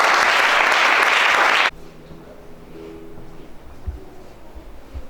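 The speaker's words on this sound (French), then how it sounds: "Acclamons pour Jésus." Loud applause from a church congregation honoring Jesus at a deliverance service, dense clapping that cuts off abruptly after under two seconds, leaving quiet room tone with faint murmurs and a few soft knocks.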